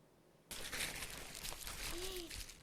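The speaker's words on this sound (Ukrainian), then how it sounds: "Ой, а ви чули якийсь шурхіт?" Close, crinkly rustling starts abruptly and continues steadily, like leaves or a bag being disturbed nearby.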